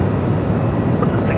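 A Qatar Airways airliner on the move at Melbourne Airport, a steady broadband jet-engine rumble running continuously at moderate distance with no talk.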